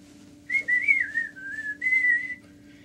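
A single person whistles a merry, wandering tune for about two seconds, clear and close over a faint steady hum, with short breaks between phrases.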